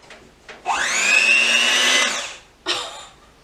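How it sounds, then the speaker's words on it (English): Handheld electric mixer beating cheesecake batter with sugar: a close motor whine rises in pitch and runs steadily for about a second and a half, cuts off, then gives one short extra burst. "Now I'm going to mix this with a handheld mixer."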